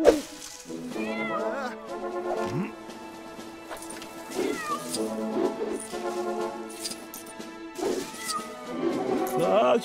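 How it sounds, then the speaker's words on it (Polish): A cat meows repeatedly in a LEGO video game, its calls rising over game music and background effects, with a character's voice speaking around it. "Chodź, Pusia. Dobry kotek."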